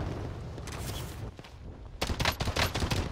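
Gunfire in the video game Call of Duty Warzone: a quieter burst of shots early on, then louder, denser rapid fire in the final second.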